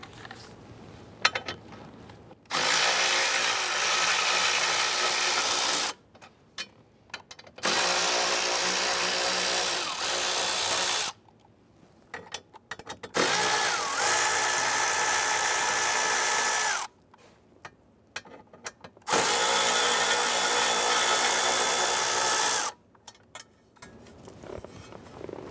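Power ratchet running off four 10mm bolts from a metal plate on a Chrysler 300 steering column, in four sustained loud whirring bursts of several seconds each, separated by short quiet pauses.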